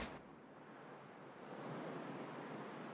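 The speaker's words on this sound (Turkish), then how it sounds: "Rüzgar seslerini duyuyorum." Wind blows steadily through the cold wilderness of the survival game The Long Dark, a soft, hollow, continuous rush that swells slightly and stays faint throughout.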